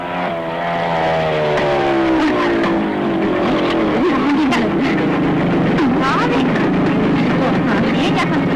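A motorbike ridden by a woman approaches, its engine droning loudly and steadily with a pitch that slides and wavers, blended with other busy sound throughout.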